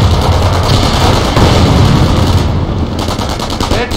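Loud, dense gunfire from a Company of Heroes battle, rapid machine-gun bursts rattling continuously with overlapping shots throughout.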